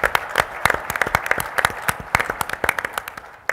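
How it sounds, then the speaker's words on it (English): Audience at a helicopter safety symposium gives a round of applause: crisp, scattered handclaps in a moderately sized room, steady for a few seconds and then tapering off. "Will you please give them a round of applause?"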